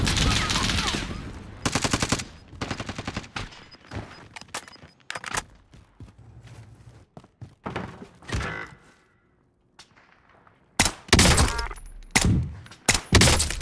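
Loud SKS sniper rifle shots ring out in a Warzone match on Rebirth Island, several sharp separate bursts spread across the clip with quieter in-game noise between them.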